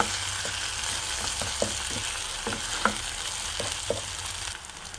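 Ginger garlic paste frying in a pan for spinach curry, a steady sizzle broken by scattered spoon scrapes and taps as it is stirred, close and clear with no voices.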